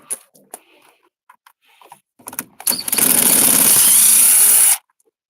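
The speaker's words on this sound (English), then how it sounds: "I'm using a power drill to take these out." Scattered clicks and handling noises, then a loud power drill whines continuously for about two seconds and stops abruptly, removing screws from a GM G-body steering column housing.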